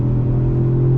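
A 2020 Jaguar XE R-Dynamic sport sedan getting back on the throttle, its engine a steady, loud, close droning rumble with a strong low hum that holds for about a second, with no voices over it.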